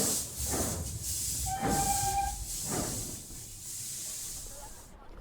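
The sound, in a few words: train steam hissing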